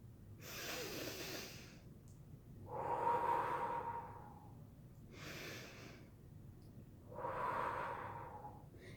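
Slow, deep breaths drawn during a mindful breathing exercise for pain relief, four long breaths alternating in and out, soft and close with quiet pauses between them.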